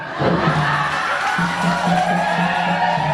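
Seminar groups cheer, shout and sing together during a team activity, a lively crowd din with whoops and chanting voices that stays at an even level across a few seconds.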